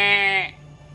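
Human voice imitating a goat, a single short, loud, wavering bleat that stops abruptly after about half a second.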